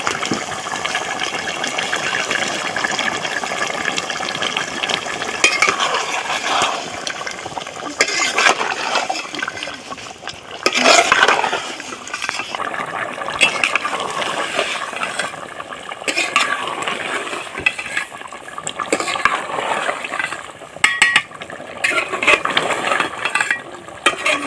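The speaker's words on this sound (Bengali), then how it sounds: "আর এখন একটু নাড়ে দিতে দেবো।" Chicken curry cooked catering style, brought to a boil in a pot and stirred, with a steady scraping and clattering of a spoon against the metal pot and occasional louder knocks, close and continuous.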